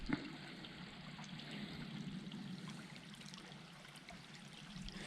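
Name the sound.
water flowing in a creek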